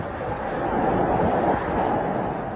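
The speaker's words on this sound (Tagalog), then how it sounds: "Habang rinig ang paghampas ng hangin, sabay ng buhos ng ulan." Strong typhoon wind lashes Uyugan, Batanes, with pouring rain, forming a steady, dense roar that stays loud and unbroken throughout, with no voices.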